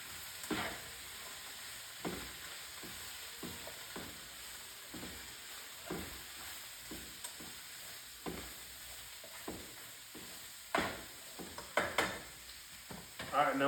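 Cabbage sizzles and simmers steadily in a pan on a stovetop set to about 4.5, a continuous frying hiss broken by frequent sharp stirring scrapes and clinks that grow busier and louder toward the end.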